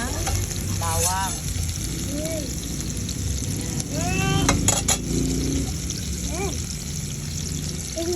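Garlic goes into onions sizzling in a frying pan while cooking menudo; a steady, close frying hiss runs throughout with clinks of a utensil, and a voice carries on over it.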